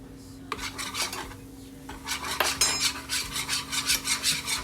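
Flour mixture whisked in a cooking pan, a steady run of quick metallic scraping strokes against the pan, close and fairly loud with no talk.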